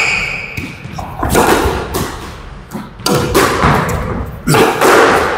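A squash ball smacks off court walls in a rally, sharp irregular thuds and slams with squeaky footwork in between, loud and close.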